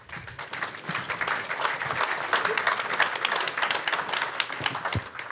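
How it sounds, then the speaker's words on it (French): Dense, steady audience applause fills a conference hall at the opening plenary of an open source event on European strategic autonomy, sustained and fairly loud throughout without a break. "Merci messieurs, on peut vous applaudir."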